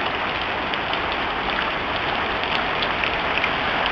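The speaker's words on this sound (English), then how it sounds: "You can probably hear the rain." Heavy rain pours steadily onto a flooded backyard, a dense, loud, unbroken hiss of drops hitting water and surfaces close by.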